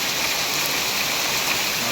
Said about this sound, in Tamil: மழை பெய்யுது